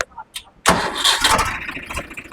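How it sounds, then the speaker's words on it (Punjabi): A Swaraj 855 tractor, set in neutral, is self-started: a sudden loud crank and catch about half a second in, then the engine running roughly nearby. "ਹਾਈ ਲੋ ਨਿਊਟਰਲ ਕਰਕੇ ਟਰੈਕਟਰ ਸਟਾਰਟ ਹੁੰਦਾ"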